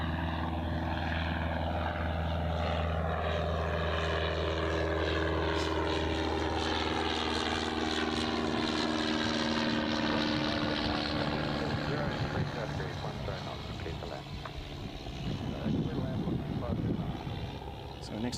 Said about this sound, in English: We'll just wait for this Cessna to take off.